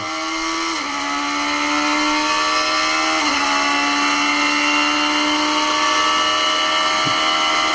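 A Radical SR3 race car's engine screams loud and close as it accelerates down the main straight of Apex Motor Club, its pitch climbing steadily with a couple of quick upshifts.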